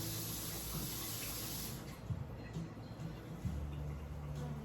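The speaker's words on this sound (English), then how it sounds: "Just run it under the water real good." Tap water running steadily while fresh rosemary is rinsed for cooking lamb, a continuous soft hiss with faint clinks near the end and no talk.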